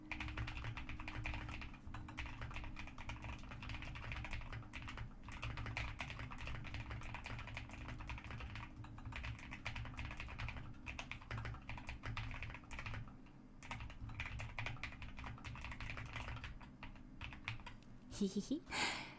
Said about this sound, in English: Let me actually type. Let me show you guys what this new keyboard sort of sounds like